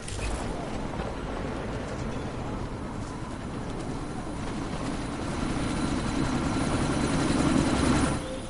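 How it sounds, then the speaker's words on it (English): A helicopter taking off in the video game Deus Ex: Mankind Divided, its rotor thudding in a dense, loud, continuous roar that swells near the end, with no talk. "That chopper's about to take off!"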